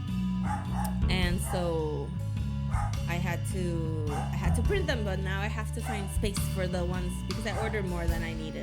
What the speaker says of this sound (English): And in the background you can hear my dog barking.